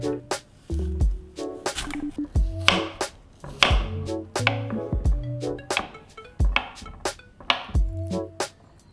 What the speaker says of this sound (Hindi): फ्रूट्स को चॉप करके रख लेंगे